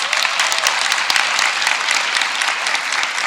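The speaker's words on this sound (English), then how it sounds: "let us give her a round of applause" Loud, dense applause from an audience fills the space continuously, close and even, with no voices over it.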